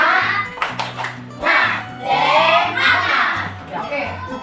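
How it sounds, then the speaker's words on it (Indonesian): A classroom of children does a rhythmic group clap chant, with bursts of clapping between chanted lines over a steady beat, the children shouting along. "mari kita tepuk semangat terlebih dahulu"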